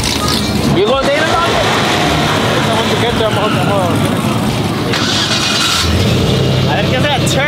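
A turbocharged car engine at a drag strip rumbles and revs loudly and close, with rising and falling pitch sweeps under excited talking.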